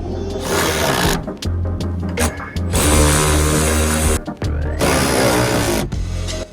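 A power tool cuts metal tubing for a harness bar on an FC RX7 build, with loud, harsh bursts of grinding separated by brief pauses.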